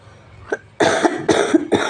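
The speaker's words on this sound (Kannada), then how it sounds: "ಸ್ವಲ್ಪ ಕೆಮ್ಮು ಐತ್ರಿ, ನಾ ಕೆಮ್ಮು ಹೋಗಿಲ್ಲ" A woman selling cotton saris coughs loudly and close by, a short throat-catch followed by three harsh, rapid coughs in quick succession.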